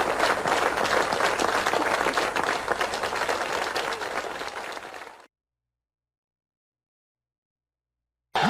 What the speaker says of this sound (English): Yeah, the applause sound effect.